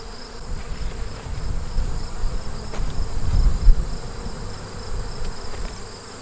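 Honeybees humming inside an open beehive during an inspection of frames full of swarm cells, a steady close buzzing drone that swells slightly midway and holds throughout.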